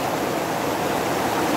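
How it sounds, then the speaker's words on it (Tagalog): Irrigation water for rice fields in Nueva Ecija gushes in a strong, steady flow, a dense continuous rushing roar close by with no voices over it. "malaki yung patubig na malakas ng tubig"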